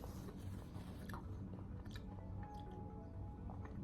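Someone chews a crunchy onion vada up close, a steady stream of soft crunching and mastication with small squishy bites, alone without speech.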